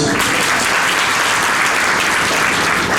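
Sustained applause from a seated audience after a talk on Ayurveda careers, thick and even throughout, many hands clapping close and loud with no speech on top.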